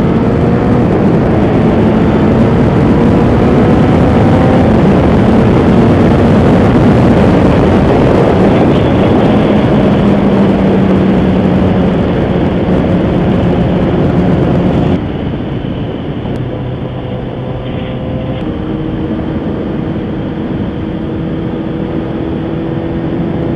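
A 2009 Yamaha FZ1 motorcycle engine drones loud and close while riding, with rising and falling pitch as it downshifts, the tone dropping noticeably partway through.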